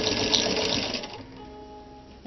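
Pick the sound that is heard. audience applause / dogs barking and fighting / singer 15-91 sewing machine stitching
singer 15-91 sewing machine stitching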